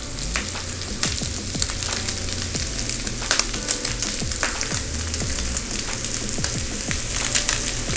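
Lamb and onion stir-frying in a pan, seasoned with Chinese five spice, fennel pollen, black pepper and salt, giving a steady loud sizzle with scraping stirs throughout and no talking.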